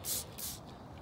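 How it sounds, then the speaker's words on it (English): Two quick hissing bursts of organic pest spray from a hand sprayer onto garden plant leaves, close and fairly faint, followed by a softer trailing puff. "spray the back of the leaves"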